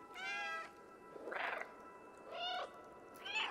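A cat meows three times inside the video game Stray, short bright calls spaced about a second apart and heard close up over quiet background.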